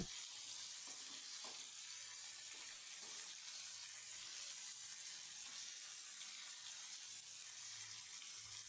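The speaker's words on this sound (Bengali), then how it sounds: "দেখুন আমি কি সুন্দরভাবে মাছগুলোকে উল্টে পাল্টে ভেজে নিচ্ছি।" Rohu fish pieces frying in oil in a frying pan, a steady faint sizzle with occasional soft scraping as the pieces are turned.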